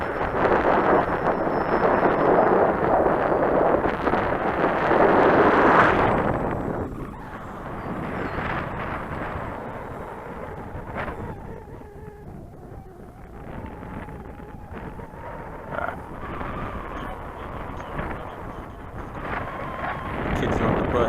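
Gusty wind at an RC model airplane flying field, buffeting the microphone with a loud, rumbling roar for the first six seconds before easing to a softer, steady rush with occasional small gusts, and some voices mixed in.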